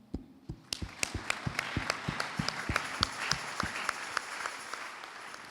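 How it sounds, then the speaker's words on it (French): A church congregation claps in a steady, rhythmic beat, sharp individual claps standing out over a softer background of applause that swells slightly and continues for several seconds. "On peut les acclamer."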